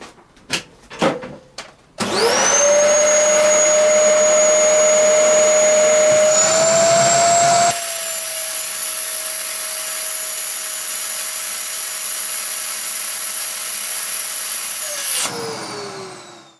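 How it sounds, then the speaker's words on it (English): A few short clicks, then a vacuum forming machine's loud motor starts and whines steadily at high pitch for about thirteen seconds, pulling a plastic sheet, before winding down. "turn off the heater, turn on the vacuum, lift up this frame and put it on here"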